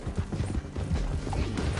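Horse hooves clip-clopping in the video game Red Dead Redemption 2, a steady trotting beat at moderate level under game music and effects, with no talk.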